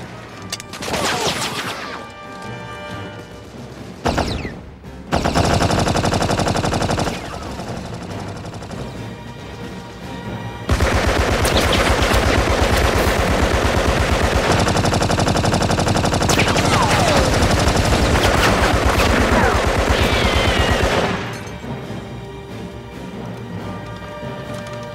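Gunfire in a World War I trench battle: rapid machine-gun bursts and dense volleys of shots, loud and sustained in long stretches with brief lulls, crashes mixed in.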